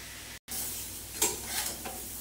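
A mix of nine vegetables for navaratan korma sizzles in a pan as a spatula stirs it. A constant frying hiss carries a few sharper scraping strokes, heard close up with no speech.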